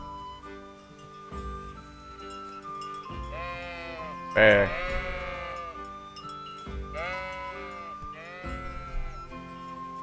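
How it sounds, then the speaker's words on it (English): Sheep bleat in the medieval RPG Kingdom Come: Deliverance, several clear calls spaced through the scene over steady game music, one bleat loud and close, with someone talking at times. "And some sheep up there."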